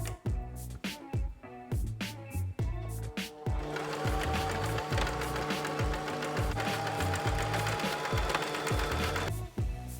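A sewing machine stitches superhero costume fabric in rhythmic bursts, running steadily and close with short pauses at first, then one long continuous run before stopping.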